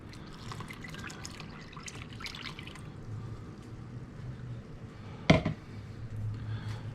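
Full cream milk poured into a coconut and lemon pie mixture in a bowl, a soft continuous trickle and splash with one brief louder clink near the end.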